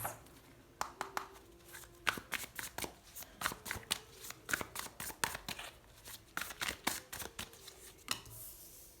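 Tarot cards are shuffled by hand in a quiet room, the deck riffling and slapping in repeated quick bursts of crisp papery clicks, close and fairly soft, with no talking.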